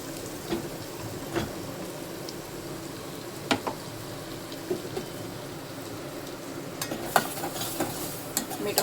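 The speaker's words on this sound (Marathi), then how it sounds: "आता वाटून घेतलेला मसाला टाकते. मस्त तेलामध्ये फ्राय करून घेऊ." Ground masala fries in hot oil with a soft, low hiss, broken by scattered clicks and scrapes of a spoon stirring the pan. It stays fairly quiet and close, with no voices.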